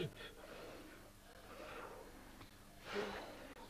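Breathy puffs of air blown out in a few long exhalations, close to the microphone and soft, with no clear talking.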